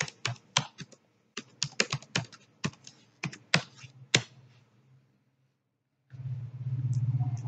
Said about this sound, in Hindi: लैब सॉल्यूशन में लॉगिन करेंगे, enter your user ID and password.